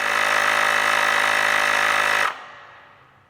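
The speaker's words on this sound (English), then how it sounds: "you select your preset and press the power button, and that'll pump up the tyre" A MotoPressor Mini Smart Pump runs steadily at close range, a loud constant electric whir and buzz while inflating a motorcycle tyre, then cuts off abruptly and fades into quiet.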